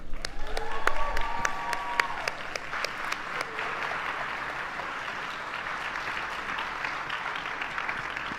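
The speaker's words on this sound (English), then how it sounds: "I'd like you to all give a round of applause to Ryan Ford." An event audience gives a round of applause for Ryan Ford, a loud, steady patter of many clapping hands sustained for several seconds and easing slightly toward the end.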